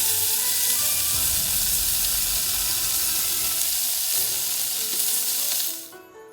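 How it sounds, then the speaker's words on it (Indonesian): A fish head sizzles loudly in hot oil in a pan, a dense, bright frying hiss that holds steady and then cuts off sharply near the end. "啲魚唔係要炸好耐㗎，炸到佢表面燶燶地咁就得㗎啦。"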